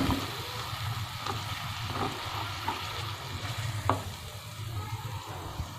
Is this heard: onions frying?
yes